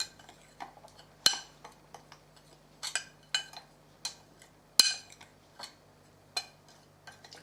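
Spice being mixed into a dredge for farmhouse spiced bacon in a bowl: a series of light, irregular clinks and taps of a utensil against the dish, close and quiet, with short pauses between.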